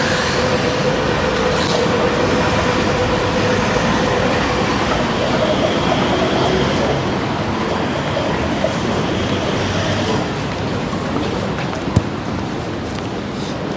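A tram rolls past on a Sydney city street in the early morning, a loud, close, continuous rumble of wheels on rails with faint squeals and clatter, steady throughout with no talking.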